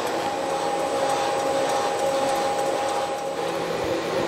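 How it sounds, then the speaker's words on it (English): A valve seat cutter machines a Porsche 911 cylinder head, giving a steady, continuous whirring hum with a faint high whine that stays even throughout, with no talking. "So now I'm just going to cut this down the thickness of the new insert."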